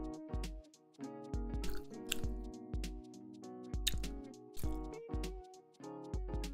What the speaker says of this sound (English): I'm purposely chewing loud to let you know that I'm eating.